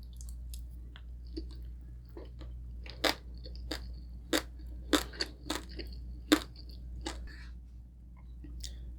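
Close crunchy chewing of roasted pork belly roll with rice at a Filipino breakfast, separate bites and crackly chews over a quiet background hum.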